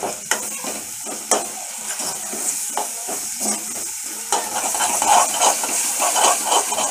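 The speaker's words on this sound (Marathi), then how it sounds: "असं छान एनर्जी सारखं हलवायचं. मसाला पण छान भाजला गेले तेलात." Paya soup masala paste roasting in oil while being stirred in a pan, with a steady sizzle and repeated scraping stirs, growing louder and denser toward the end.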